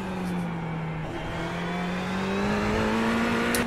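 A race car engine in Gran Turismo 7 revs with a strong, steady tone that climbs slowly in pitch as the throttle is fed in, heard up close with no voices.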